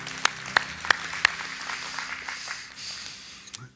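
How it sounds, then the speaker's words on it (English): A church congregation claps during a sermon: a few distinct, evenly spaced claps ring out near the start, then the sound thins to a soft, scattered room murmur. "Yeah, it's worth clapping for."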